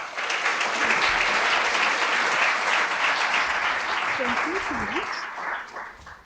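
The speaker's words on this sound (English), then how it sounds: "let's give Perla a round of applause" An audience at a university welcome reception breaks into sustained, dense applause for an introduced speaker, loud and even throughout, with a faint voice briefly audible late in the clapping.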